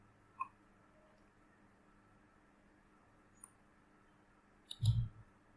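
A computer mouse gives a few faint, isolated clicks against near silence, then a louder pair of clicks with a short thump near the end.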